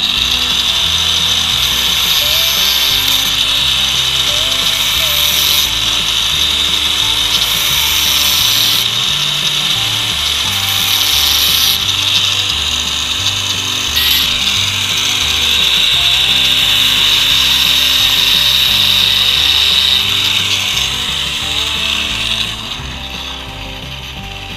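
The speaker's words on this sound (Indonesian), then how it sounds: "kita akan melakukan pemotongan dengan menggerinda las-lasan tersebut" Angle grinder cutting through the factory welds on the CDI spool of an old Yamaha Vega motorcycle, a steady loud high-pitched whine with rhythmic grinding pulses running nonstop, easing slightly at the end.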